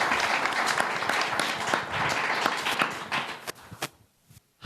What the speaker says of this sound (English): Applause, Clovis.